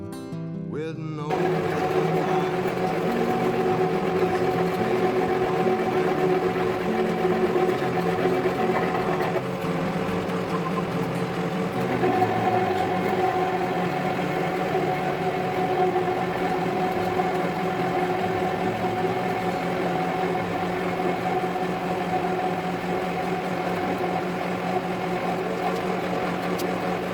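A machine tool boring out a large welded steel weldment, a loud, steady mechanical drone with a constant tonal hum that starts abruptly and continues unbroken, with no voices.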